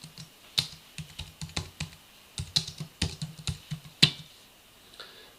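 Typing on a computer keyboard while entering shot details into a logging app: a steady run of crisp, close key clicks in irregular bursts, with one heavier keystroke near the end and no talking.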